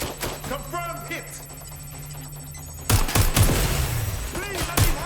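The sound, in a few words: gunfire being taken in the video game Watch Dogs Legion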